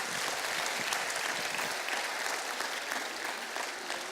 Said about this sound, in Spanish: Un aplauso fuerte para ustedes.